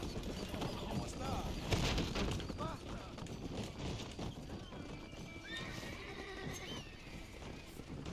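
A video game scene gives a busy mix of clip-clopping horse hooves and whinnying neighs, with scattered clatter and faint voices in the background.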